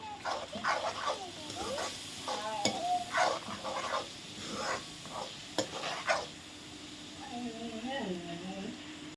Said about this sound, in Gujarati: તો હવે એકદમ સરસ મિક્સ કરી દઈશું. મસાલાને સરસ ચડવા દેવાના છે.